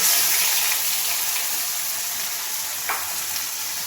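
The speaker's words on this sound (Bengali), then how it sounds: "এর মধ্যে আমি মিক্সিতে যে মশলাটা পেস্ট করে রেখে দিয়েছিলাম সেটা আমি কড়াইতে দিয়ে দেবো" Ground spice paste hits hot tempering oil in a wok and sizzles steadily, a bright continuous hiss that starts loud and gradually eases, heard close and alone.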